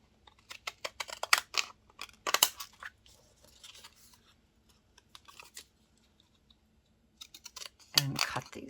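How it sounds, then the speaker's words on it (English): Small zigzag-edged craft scissors snipping through paper for journal page tabs, with bursts of close, crisp cuts and rustling, a quiet lull in the middle, then another sharp flurry of snipping. "I just take my little zigzaggy scissors here"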